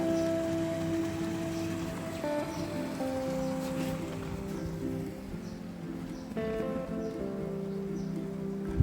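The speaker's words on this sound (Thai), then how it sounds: "นี่ที่ผมบอกก็ได้ยินเสียงน้ำไหลข้างหลังนะครับ" A stream runs behind a Thai-style homestay near Nan, giving a continuous rushing, splashing flow of water, with ringing tonal sounds drifting through it.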